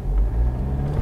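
BMW F30 320d M Sport diesel saloon pulling away hard with its wheels breaking traction, giving a loud, steady low engine rumble close by with no voices.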